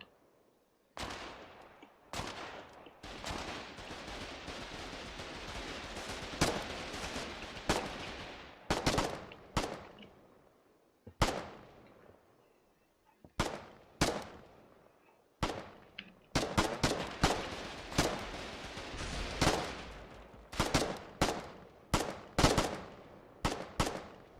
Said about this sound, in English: And the howitzer started firing.